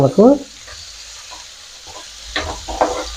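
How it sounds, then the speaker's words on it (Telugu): Fish frying lightly in oil on a tawa, with a soft sizzle broken by a few short scraping stirs at the start and near the end, close and moderately loud. "మనం ఫిష్ని ఆయిల్లో లైట్గా అవనిస్తుండాలి"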